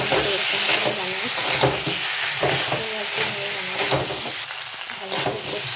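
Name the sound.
ginger, cumin, garlic and onion paste frying in a pan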